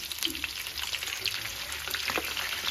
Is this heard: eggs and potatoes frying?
yes